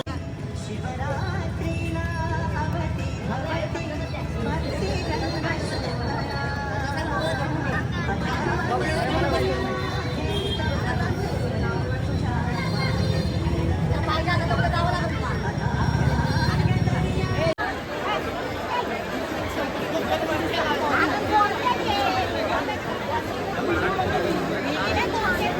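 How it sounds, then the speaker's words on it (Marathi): Dense crowd chatter at a busy Ganapati darshan in Pune, a steady loud babble of many voices close by that runs without a break, its tone shifting abruptly partway through. "गर्दी खूप आहे"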